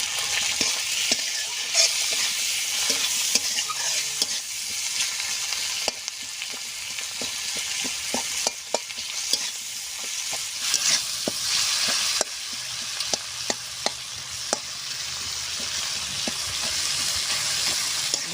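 Spices and prawns for a cabbage kofta filling frying in a pan with turmeric, salt and chili powder, a continuous loud sizzle punctuated by sharp scraping stir strokes throughout.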